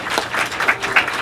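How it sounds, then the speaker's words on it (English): A Baptist fellowship congregation gives a quick round of applause for a choir after a cantata, a short burst of close, uneven claps. "round of applause"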